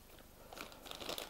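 A small plastic shipping pouch crinkles and rustles in someone's hands, close and quiet, with the crackling growing busier toward the end.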